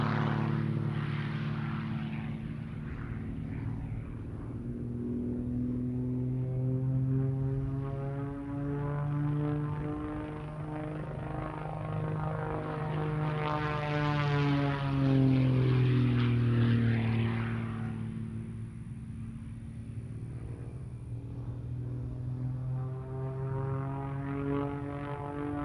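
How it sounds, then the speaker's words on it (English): A 1956 de Havilland Super Chipmunk airshow plane, fitted with a custom 350-horsepower engine and a composite propeller, drones steadily overhead for about 25 seconds, its pitch shifting gently as it swells and fades without any talk. "It features a custom-built 350-horsepower motor, an advanced composite propeller, shortened wings, and a streamlined canopy"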